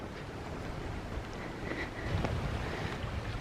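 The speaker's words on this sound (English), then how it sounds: "wow, that wind was pretty strong." Strong wind blows beside a road near a creek, a continuous rough rush of broadband noise buffeting the microphone, swelling into heavier gusts partway through with no voices.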